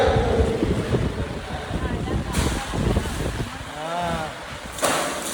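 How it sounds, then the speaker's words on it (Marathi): Strong gusting wind roars and buffets the microphone in a village during heavy rain, a loud, continuous rushing that swells and fades. Someone shouts briefly in the middle. "पाऊस जाम आहे वारा जाम सुटलाय"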